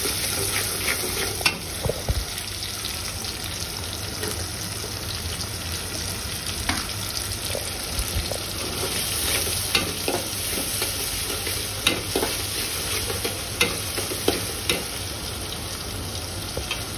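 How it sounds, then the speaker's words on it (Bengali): Onions and salt frying in oil in a pan, a constant close sizzle under repeated sharp spatula scrapes and taps at an irregular pace throughout. "একটু ভেজে নিচ্ছি।"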